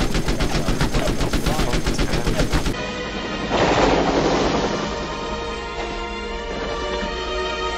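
Police open fire in Duck Season with a loud, rapid automatic burst that hammers steadily for a few seconds, then cuts off into softer rumbling and scattered echoes.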